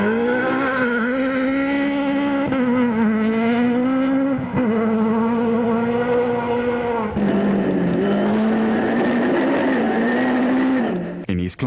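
A Class A7 Toyota Runx rally car revs hard at speed on a Cape rally stage, loud and close, its engine note rising and falling through gear changes, with a shift in tone near the end.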